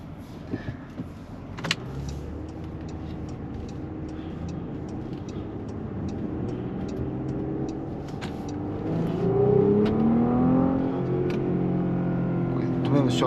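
A Porsche Cayenne coupé drives in Sport Plus mode, its engine a steady low drone that swells into a rising rev near the end, heard from inside the cabin with small clicks and rattles.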